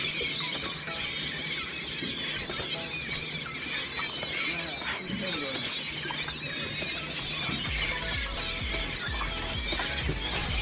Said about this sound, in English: Right here, Captain Jamie put us on a big pot of birds